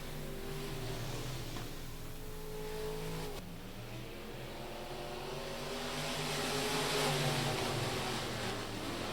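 Race cars roar around the track at Rocket Raceway Park on the opening lap of a heat race, with several engines droning and revving together in a dense, continuous wash of engine noise.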